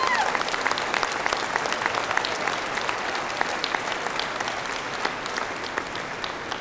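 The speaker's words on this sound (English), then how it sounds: "Let's give them all a round of applause." A large conference audience applauds steadily, a dense sustained roar of many hands clapping at once that holds level throughout, loud and filling the hall with no clear voices.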